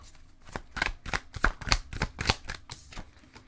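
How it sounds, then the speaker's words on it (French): Tarot cards being shuffled by hand at close range, a fast run of crisp riffling snaps and flutters with uneven rhythm and no talking. "on va aller chercher 7 cartes"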